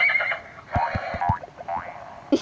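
Horse neighing in the Crossy Road video game, a shrill whinny over a run of quick hoof clip-clops, moderately loud with a little game noise around it.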